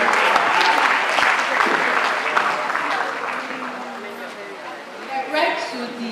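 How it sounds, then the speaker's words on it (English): Audience applause at a university medical students' public lecture, welcoming a clinical psychologist lecturer: sustained, dense clapping from a large crowd that tapers slightly before a brief swell near the end. "please a round of applause for her"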